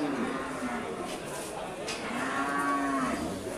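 Cattle at a cattle market in Winong Kidul lowing in drawn-out moos, one near and loud with others answering, while people talk faintly in the background.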